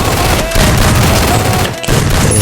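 Sniper rifle fire in a video game, a loud dense run of gunshot booms with a brief gap partway through, heavy and continuous, with no clear separate shots.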